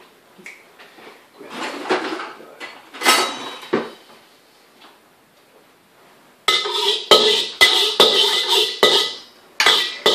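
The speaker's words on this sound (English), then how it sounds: "I normally break the eggs into the wok and just work on them, breaking them up" Eggs being cracked and dropped into a wok for a large fried rice: sharp clicks and taps, then a run of loud clinks and scrapes of shell and utensil against the metal pan.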